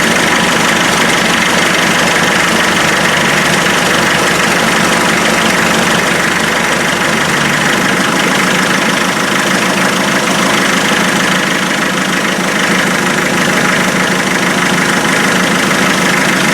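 A Land Rover Defender 2.5 naturally aspirated diesel engine idles steadily and loudly at about 750 rpm, a continuous low rumble with faint knocking, close by and alone.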